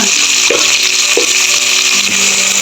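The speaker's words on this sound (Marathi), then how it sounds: "हे टमाटा चांगला परतून घ्यायचा" Chopped tomato sautéing in a hot pan with oil and browned onion for a homemade paneer pulao, giving a steady, close frying sizzle that runs unbroken through the moment, with no talking.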